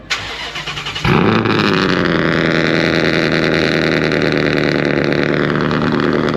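Loud Ford Mustang engine cranking briefly, then catching and roaring into a steady, throaty idle that stays close and loud for several seconds with no talk.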